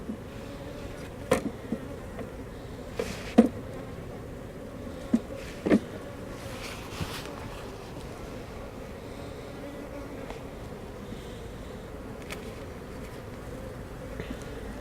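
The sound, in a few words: honeybees buzzing in an open hive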